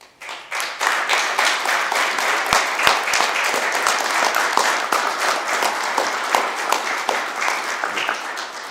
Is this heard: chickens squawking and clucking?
no